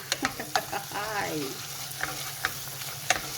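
Tomatoes and tomato paste sizzle in a frying pan as a white bean and beef dish is cooked, with a soft steady fry and several sharp clicks and scrapes of stirring, close up.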